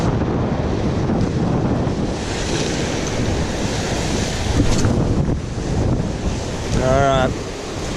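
Strong wind gusts across the microphone by the sea while waves surge and wash on the shore, a steady roar with a brief whistling tone near the end.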